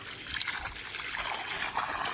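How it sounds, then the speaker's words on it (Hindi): Water trickling and splashing over French beans as they are rinsed, a continuous close pouring sound with small splatters throughout. "इसको धोएंगे इस पानी से"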